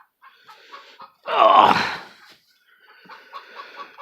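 Several chickens cluck outdoors in short bursts, with one louder squawking call rising above the others in the middle, and a single spoken word is heard as well.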